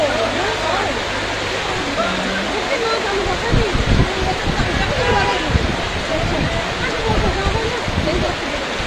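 Steady, loud rush of water pouring down from a mountain stream during heavy rain in Darjeeling, Kurseong, a constant broadband roar with some spattering, unbroken through the clip.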